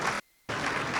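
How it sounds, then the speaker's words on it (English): Applause at a Greek Independence pageant event, loud and dense, breaks off into a brief silent gap before resuming just as strongly. "Round of applause for Miss Greek Independence and Christiana Vasilas."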